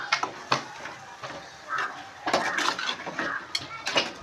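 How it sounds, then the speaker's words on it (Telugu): A spoon scrapes and clanks against a metal pressure cooker while cashew and mushroom curry is stirred at home, with irregular close knocks and scraping at moderate loudness and no talking. "కుక్కర్ వేసేసుకున్నాక ఇలా కలుపుకోవాలండి"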